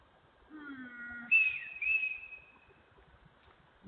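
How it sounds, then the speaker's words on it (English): A faint, eerie whistling with a falling tone and a couple of high sustained notes drifts through dark streets, distant and thin against a quiet night background. "a strange whistling sound began echoing through the dark streets"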